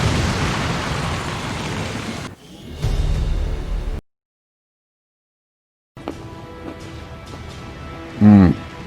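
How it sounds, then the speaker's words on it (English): Demolition charges detonate in XCOM 2, a heavy, rumbling roar that cuts off into silence, followed by quieter debris noise and a short low thump. "Detonating charges."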